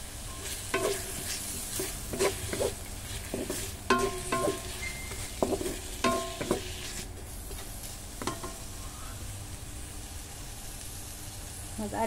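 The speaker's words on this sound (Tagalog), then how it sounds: "Roasting soy sauce." Soy sauce sizzles and crackles in a hot pan, with scraping stir strokes recurring against a steady frying hiss close by, no voice over it.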